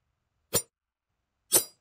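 Two short, sharp sword slashes from a swords sound-effects pack, each a quick broadband whoosh-strike, spaced about a second apart and heard alone against silence.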